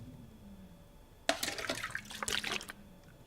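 Water is collected from a toilet in the survival game The Long Dark, a short splashing, gurgling rush starting abruptly after a quiet moment and lasting about a second and a half.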